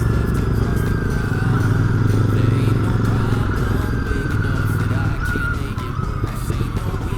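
A Royal Enfield Bear 650 motorcycle riding along, a steady, loud engine drone with a constant low rumble and a slowly falling whine, heavy wind noise throughout.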